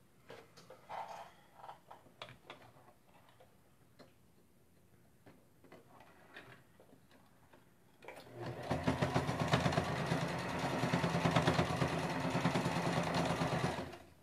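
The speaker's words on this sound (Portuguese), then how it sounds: "Vou passar aqui então uma costurinha." A sewing machine stitches a small handbag strap, first a few short ticking bursts, then a long loud continuous run of rapid stitching.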